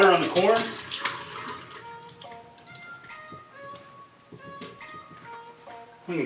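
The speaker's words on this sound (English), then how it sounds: "I'm going to drain the water on the corn." Water drains from a can of corn being readied for homemade carp bait, a close trickle and splatter with drips that taper off over a few seconds.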